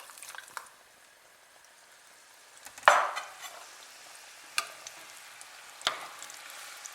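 Floured pignolata dough pieces frying in hot oil, a soft steady sizzle with a few sharper splashes and crackles, close by with no talk.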